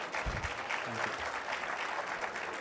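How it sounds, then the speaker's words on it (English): Applause from a literature festival audience greets an author onstage in Jaipur, a soft, steady patter of many hands heard from a distance, with a faint voice underneath. "Please, a round of applause for Sanjeev Sanyal"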